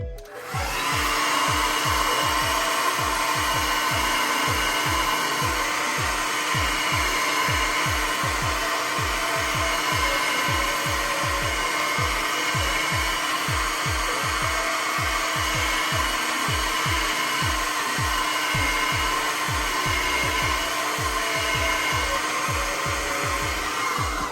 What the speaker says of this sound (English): So turn the hairdryer on, go ahead and do that.